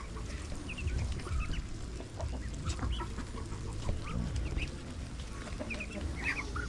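Chickens clucking and ducks quacking in a busy farmyard with pigs, scattered calls over a steady low rumble of background noise.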